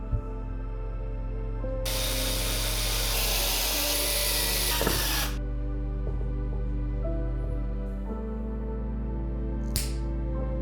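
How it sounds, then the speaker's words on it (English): Screws being driven to fix a power strip onto a wooden base, a loud hissing, whirring burst of several seconds, followed by lighter clicks and handling noises in a workshop, with no talk. "We secure it to the wooden base with 4 screws."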